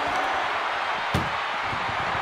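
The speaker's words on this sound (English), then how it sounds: "And they can slam this door shut." A single heavy ambulance door slam in the WWE 2K24 video game cuts through a continuous roar of arena crowd noise, brief and loud near the middle.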